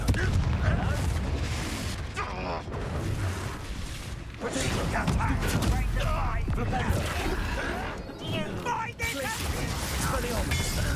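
The Confringo blasting curse in Hogwarts Legacy on PS4 sets off repeated booming explosions amid combat clatter, with voices talking over the blasts.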